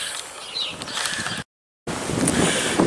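Wind blowing outdoors on a dog walk, a loud, hissing buffet against the microphone that cuts out briefly midway and then returns just as strong.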